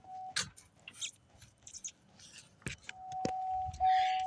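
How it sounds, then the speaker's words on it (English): A 2007 Saturn Outlook with a dead battery that won't crank gives a few sharp starter clicks, close and fairly loud, with a sustained tone and faint voices around them. "Here's a clicking noise."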